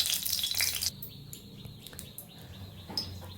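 Oil heating in a pan before papad is fried, a loud hissing sizzle at first that settles into a softer crackle with small pops, heard up close.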